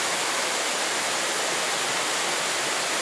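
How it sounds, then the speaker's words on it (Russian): The low Pa La U waterfall in Thailand gives off a steady, even rush of falling water, a continuous hiss at moderate distance with no voices or other sounds. "Водопад Палау. Сам водопад невысокий, но очень красиво."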